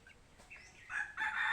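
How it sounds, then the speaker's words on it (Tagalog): A rooster-junglefowl mix crows up close, a short strained call that swells louder toward the end. "Ito yung manok na labuyo ko."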